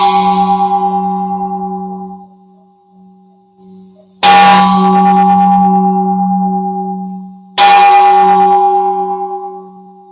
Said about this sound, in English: there is a proper way to bang a pot, and I'll show you what that is right now